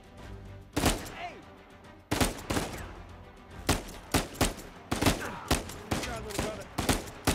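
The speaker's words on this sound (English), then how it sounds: "Nice shooting!" Gunfire in the action-adventure game Uncharted: loud, punchy shots spread across the whole stretch, some coming singly and some in quick clusters, with a character speaking briefly between them.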